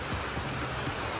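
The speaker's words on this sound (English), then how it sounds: "Now here it's heavily raining." Heavy rain pours steadily in Goa, a dense, continuous hiss of falling water with a low rumble of drops on surfaces, close and unbroken throughout.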